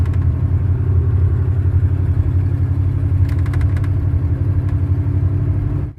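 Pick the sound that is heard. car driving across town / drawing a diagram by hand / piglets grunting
car driving across town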